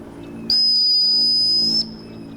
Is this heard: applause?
no